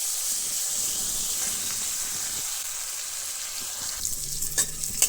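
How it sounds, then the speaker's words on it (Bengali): Eggplant frying in hot oil in a pan, a continuous bright sizzle and hiss throughout, with a few soft clinks of stirring toward the end, close and fairly loud with no speech. "তো বন্ধুরা এর চেয়ে বেশি ভাজবো না, বেগুনটা না তো একদম গলে যাবে"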